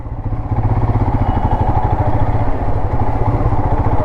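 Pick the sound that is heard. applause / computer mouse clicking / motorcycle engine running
motorcycle engine running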